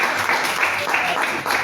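A church congregation claps steadily in praise of the Lord, a dense, even patter of many hands filling the room for a brief stretch.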